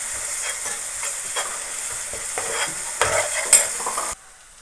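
Onions frying in a pan for fish curry, a bright continuous sizzle with scraping stirring strokes that grow busier near the end before stopping abruptly.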